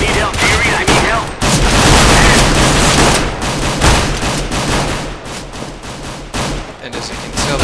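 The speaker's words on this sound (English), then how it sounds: "And as you can tell, the firefight already begins." Dense, loud gunfire from a Counter-Strike: Global Offensive firefight, with rapid overlapping bursts and shots running almost continuously, close and intense throughout.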